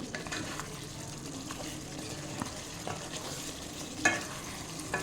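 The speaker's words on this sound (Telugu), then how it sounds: "టీ స్పూన్ బిర్యానీ మసాలా పొడి వేస్తున్నాను ఒకసారి మళ్ళీ బాగా కలుపుకుని" Biryani masala powder being stirred into spicy chicken biryani in a pot, a steady low scraping and soft sizzle with a few louder spoon knocks near the end, no voices.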